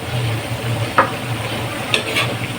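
Pork and string beans cook in coconut milk while a utensil stirs the pan, a steady low simmering bubble under a few sharp scraping clinks close by.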